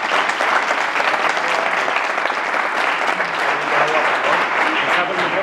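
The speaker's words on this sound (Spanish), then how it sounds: "vamos a darle un aplauso" A live audience at a pitching masterclass applauds steadily, a dense, even wash of clapping hands that holds at full strength throughout.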